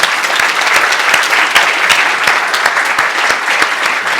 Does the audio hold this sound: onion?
no